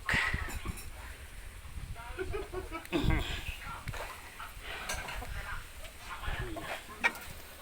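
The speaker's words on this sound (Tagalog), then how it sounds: "ang sasalubong sa iyo, wow, puro manok" Many chickens cluck and squawk together nearby, a busy flock with overlapping calls, while a person talks over them.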